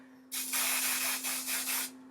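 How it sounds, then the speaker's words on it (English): Texturizing hair spray hisses from a can in several close, loud bursts over about one and a half seconds, the pressure dipping briefly between pulses before cutting off, with no talking. "if you spray it in your hair, here I'll just show you"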